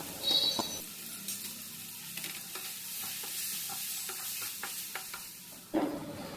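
Bitter gourd fry is stirred in a sizzling pan after chilli powder, turmeric, salt and coriander powder go in, with a steady spatula scraping over a constant frying hiss and a louder clatter near the end.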